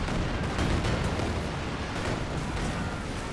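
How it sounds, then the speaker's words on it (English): Artillery shells landing in a Company of Heroes 2 battle, a dense, continuous barrage of loud overlapping blasts and rumbling impacts with no pauses. "Artillery coming down."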